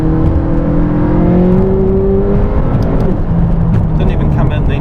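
A McLaren 570S engine revs and drops through a downshift, a loud steady roar with a rising then falling tone, heard from inside the cabin.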